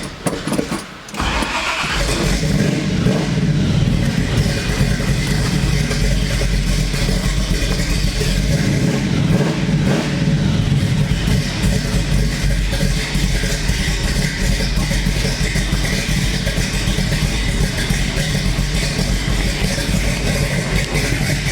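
A 1970 Chevrolet Camaro muscle car engine cranks and catches, then settles into a loud, steady, rumbling run close by, with slight surges in the middle.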